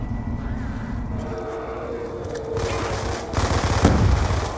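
Gunfire and a grenade blast in a multiplayer shooter game, with sustained rapid shots rattling throughout and a louder burst near the end.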